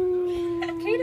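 Dogs howling with a sustained steady tone, close and fairly loud, joined by a brief whimpering rise near the end, with people talking faintly around it.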